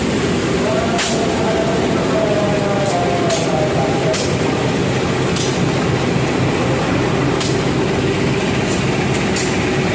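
The KA 167 Kertanegara passenger train departs Lingi station with a continuous rumble of rolling railcars and repeated sharp clicks of wheels over rail joints, all steady and close.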